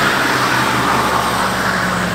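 A Chevrolet Camaro, revived after 11 years abandoned in a barn, holds in place with its tyres spinning, producing a loud, continuous, steady roar of engine and tyre noise.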